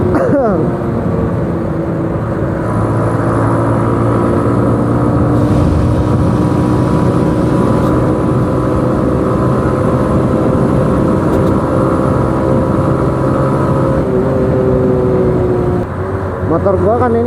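Yamaha Vega motorcycle with automatic clutch engine running hard during a speed test, a loud, steady drone with rising and falling pitch as it holds in gear, wind rushing throughout.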